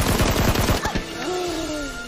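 Automatic rifle fire in the mobile battle-royale game Peacekeeper Elite, a loud close burst of rapid shots that stops after about a second, followed by a rising whistle-like tone and game ambience.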